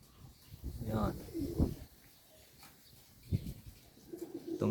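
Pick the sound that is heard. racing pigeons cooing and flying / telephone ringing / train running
racing pigeons cooing and flying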